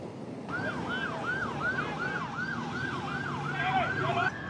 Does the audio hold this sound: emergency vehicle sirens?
yes